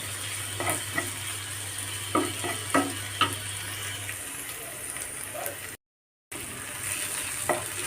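Jackfruit and jackfruit seeds roasting in a pan, with a steady sizzle under repeated scraping strokes of a spoon stirring the mix, close and moderately loud.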